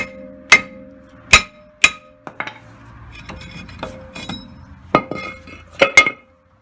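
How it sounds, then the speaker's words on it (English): Sharp metallic clanks ring out from a hammer hitting a brake rotor on a Jeep Cherokee, several strikes spaced irregularly, close and loud with lighter clinks between. "May have to smack it with a hammer to break it free."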